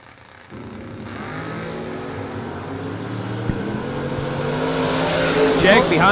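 At a drag strip, a Vega and a Chevy II wagon launch, their engines revving upward in rising harmonic tones that grow steadily louder and end in a burst of tire and exhaust noise near the finish.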